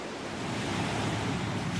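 Ocean waves wash along the New Jersey shore in a steady, even rush of surf, moderately loud, with light wind and no voices.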